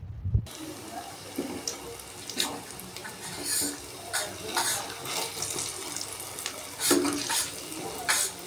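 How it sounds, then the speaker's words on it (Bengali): Red lentil koftas fry in oil with a steady close sizzle, punctuated by splashy bursts and scraping as they are moved and turned in the pan. "কোপ্তাগুলোর এক পিঠ ভাজা হয়ে গেলে উল্টে দেব অন্য পিঠ ভাজার জন্য"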